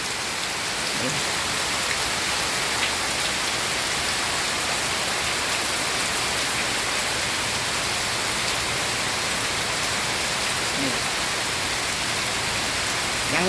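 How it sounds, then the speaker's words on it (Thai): Heavy rain pours steadily in a Sunday downpour, a dense, loud, unbroken hiss of drops hitting surfaces close by, with no voices and no obvious pauses throughout. "มาฟังเสียงฝนกันเสียงฝนตกเสียงฟ้าร้องนะคะ"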